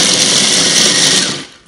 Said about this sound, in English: a whole lot of almonds that I'm going to crush in a minute